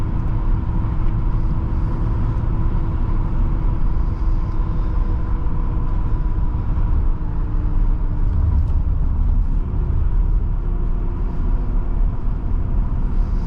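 A 1985 Nissan 300ZX engine runs steadily, giving a continuous low rumble with a faint whine, heard close and unbroken with no one speaking.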